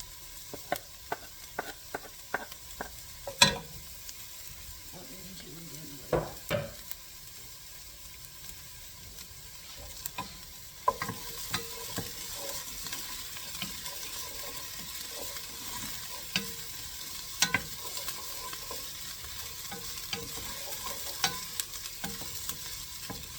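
Spicy sausage with red pepper and garlic fries softly in a pan under a quiet, steady sizzle. A spoon knocks and scrapes the pan now and then, more often early on. No voices are heard.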